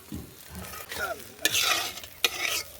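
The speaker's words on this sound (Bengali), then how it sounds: "আমার ডিম ভাজা হয়ে গেছে" Beaten eggs frying in oil in a pan, spatula scrapes and stirring strokes over a sizzle that swells in two short bursts, close and clear with no talking.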